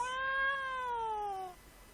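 A single drawn-out cat meow in the video game Dragon Quest X, a clear, tonal cry that holds steady and then slides downward before cutting off, heard alone over faint background.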